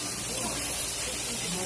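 Ground paste of onion, ginger, garlic and green chilli hisses steadily in a hot pan, a continuous close sizzle with a voice speaking over it.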